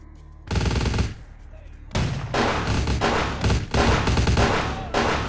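Gunfire in the Vampire the Masquerade Bloodlines video game: loud, dense bursts of rapid automatic shooting that break off briefly, then resume in sustained volleys.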